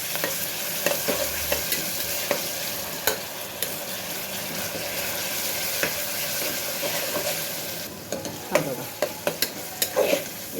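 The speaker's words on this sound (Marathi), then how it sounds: "कांदा थोडा भाजत आल्यानंतर त्यामध्ये आपण जे वाटण केलं आहे ते मिक्स करू" Onion with ground garlic-spice paste for masale bhat sizzling in a pan, steady frying hiss under repeated close spoon scrapes and taps that become sharper and more distinct near the end, no speech.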